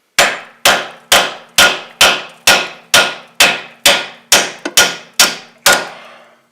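About a dozen evenly spaced metal hammer taps ring out on the front strut assembly of a 2007 Chevrolet Cobalt, each sharp clang decaying quickly, close and loud, with no talking.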